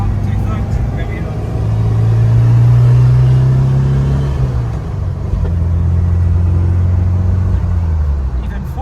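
A classic car accelerating down a runway and shifting up through the gears, its engine a steady loud rumble whose pitch rises and then drops at each change, with someone talking over it.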